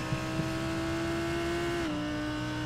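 A Lamborghini GT3 race car engine drones steadily at high revs during a six-hour race, a sustained tonal whine that shifts down slightly near the end, heard from inside the car.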